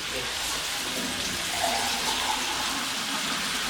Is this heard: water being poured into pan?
yes